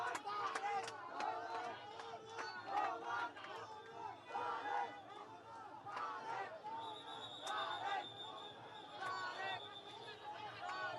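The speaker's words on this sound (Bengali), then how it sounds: "স্লোগানে স্লোগানে মুখর আমরা দেখছি" A large crowd at a BNP rally for Tarique Rahman chants slogans in rhythmic bursts, a dense roar of many voices with sharp shouts and a sustained whistle partway through.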